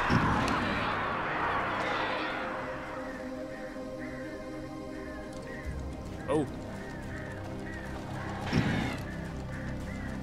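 Birds in the video game Alan Wake give short, repeated chirping calls in an even rhythm, following a stretch of dense voice-like sound at the start, with a couple of brief thuds later on.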